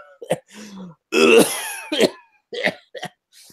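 A voice imitates a character's coughing and throat clearing: a few rough, breathy hacks and gravelly rasps in short, close bursts separated by brief pauses.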